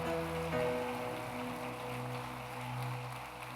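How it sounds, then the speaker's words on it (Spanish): A church congregation applauds in a steady, dense wash of clapping, with sustained organ or keyboard tones playing underneath and no voices heard. "Denle un aplauso al Señor."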